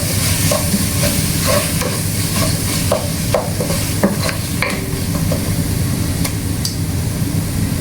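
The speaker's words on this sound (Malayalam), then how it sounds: "അതിനുശേഷം നല്ലവണ്ണം മിക്സ് ചെയ്ത് കൊടുക്കുക." Vegetables stirred with a spoon in a frying pan after a half teaspoon of coriander powder goes in, for a masala pulao: steady close sizzling with repeated scraping strokes of the spoon throughout.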